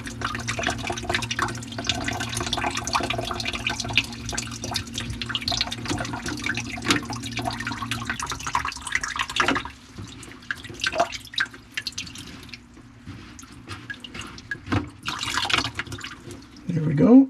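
Water drains and drips through a freshly snaked kitchenette sink drain in a hotel, a steady wet rush and trickle that thins out partway through, with scattered drips and a few clunks near the end.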